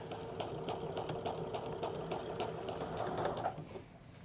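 A sewing machine runs a continuous straight stitch around the edge of pull-on pants, its needle hammering in a fast, even rhythm before slowing and stopping near the end.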